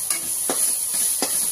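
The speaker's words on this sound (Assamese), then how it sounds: "এইটো ভাজি লৈছোঁ।" Food sizzles steadily in a hot pan over low-oiled heat, with a few sharp stirring scrapes cutting through the continuous frying hiss.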